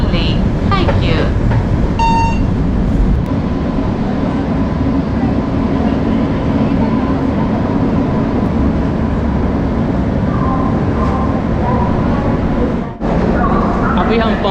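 Shatabdi express train (12014 Amritsar–New Delhi) rolling into Ludhiana Junction, a loud, steady rumble of wheels and coach noise heard from inside the coach, with a brief dip near the end.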